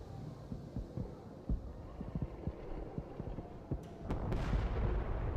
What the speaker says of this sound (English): I hear explosions and fireworks.